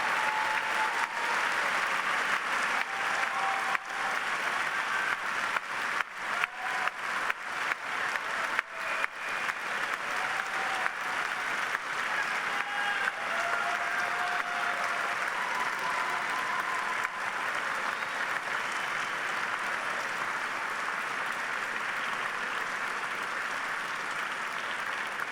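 Graduates at a Yale SOM diploma ceremony give a long, sustained round of applause to their families and friends, a dense wall of clapping from a large crowd that holds steady for about twenty-five seconds.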